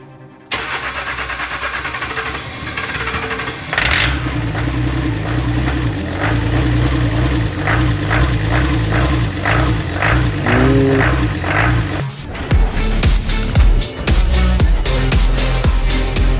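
A cheap Range Rover under rebuild starts up and runs loudly at close range, its engine note steady with a few small revs as it is driven out of a garage, then a sharper, busier engine sound near the end.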